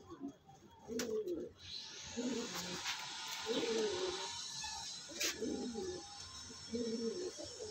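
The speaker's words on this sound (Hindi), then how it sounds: "ये रहे ये सारे कबूतर" Pigeons coo repeatedly in soft, throaty bursts, several birds close by, with a faint background hiss and occasional sharper chirps.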